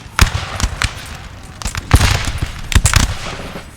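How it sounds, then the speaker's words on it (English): Musket volleys crackle across a Napoleonic battlefield in Napoleon Total War, with Prussian infantry and French musketeers firing in loud, close, ragged bursts of sharp overlapping shots that pop irregularly throughout. "Prussia is now pushing up infantry to repel the French musketeers, firing volley after volley."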